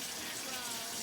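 Tap water runs steadily in a kitchen while tomato sauce is being cooked, a faint, even hiss of flowing water that holds for a moment without a break.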